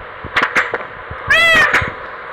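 A cat meows once, a drawn-out rising and falling cry, among soft scattered taps and knocks in a quiet indoor setting.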